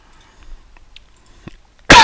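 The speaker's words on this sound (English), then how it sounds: "sorry, I have a cough" A near, sudden single cough bursts out at the end after a mostly quiet stretch with faint clicks.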